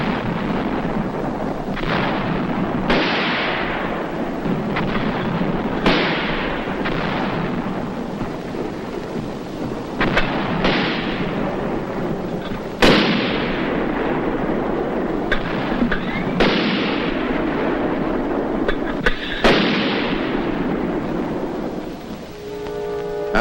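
Heavy mortar and artillery fire from 4.2-inch shells during the Korean War, a run of booming blasts every few seconds with rolling echoes, loud and reverberant over a constant background rumble.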